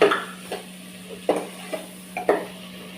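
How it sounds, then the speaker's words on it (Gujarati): Corn chevdo is stirred as it roasts in a pan, heard as a few separate scraping strokes and light clinks of a spoon against the pan over a soft background sizzle. "બસ હવે આપણો મકાઈનો ચેવડો સંતળાઈ ગયો છે, મતલબ શેકાઈ ગયો છે."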